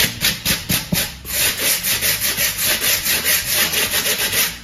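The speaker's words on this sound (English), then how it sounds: "I'm applying a little more pressure with this one. I want to see if I can scrape off some of the loose pieces." Stripping brush scraped hard over carved foam board for model railroad rock scenery, steady rhythmic back-and-forth rasping strokes, close and loud with no talking.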